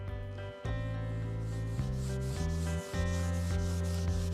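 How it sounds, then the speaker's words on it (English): Steady rubbing strokes of very fine sandpaper across a candlestick surface, close and loud, with brief pauses between passes and no talking. "We're going to use a very, very fine sandpaper and just take the surface off"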